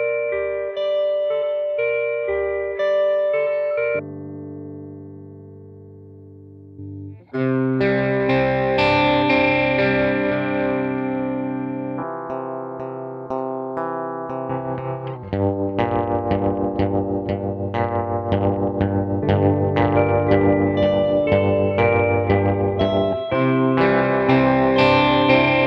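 Ambient electric guitar soundscape processed with chorus, distortion and echo effects: a layered sequence of chords and swelling textures, with a quieter sustained pad partway through before fuller strummed and plucked passages return, loud and continuous with no voices.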